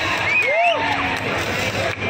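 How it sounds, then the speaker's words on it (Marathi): Crowd at an outdoor women's Dahihandi festival in Satara cheering and whooping continuously, a dense roar of many voices with shouts and yells rising over it, close and loud throughout. "यासाठी एकदा जोरदार टाळ्या झाल्या पाहिजेत।"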